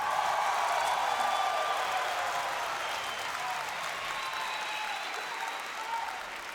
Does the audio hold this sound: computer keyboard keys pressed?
no